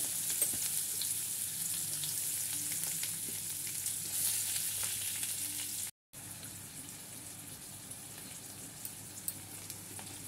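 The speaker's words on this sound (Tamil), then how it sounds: "அந்த எண்ணெயிலேயே வந்து நம்ம வெங்காயம் தக்காளி பூண்டெல்லாம் வந்து வறுத்திக்கலாம்" Onion, tomato and garlic frying in oil for a banana-flower chutney give a steady, close sizzle with faint stirring clicks, running alone for about ten seconds apart from a brief gap midway.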